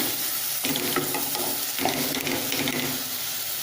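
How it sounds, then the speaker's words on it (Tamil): Tomatoes and onions fry in a pan while being stirred, giving a steady close sizzle broken by scraping strokes of the spoon, with no talking. "இது வேகட்டும், நல்லா சுண்டி வரட்டும் தக்காளி"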